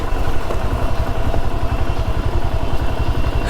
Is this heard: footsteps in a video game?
no